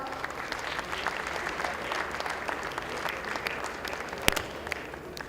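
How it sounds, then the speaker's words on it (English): Steady applause fills a large hall at an annual gala dinner, a dense, even wash of many hands clapping at moderate distance with no speech over it. "Everybody, a big round of applause."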